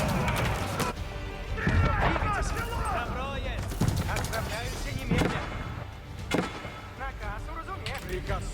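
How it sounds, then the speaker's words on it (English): In the real-time strategy game Age of Empires IV, cannons fire repeated booming volleys and battle noise rumbles throughout, mixed under a player's continuous commentary. "Two volleys from the cannons."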